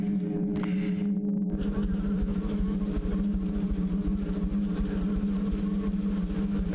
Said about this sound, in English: I hear buzzing.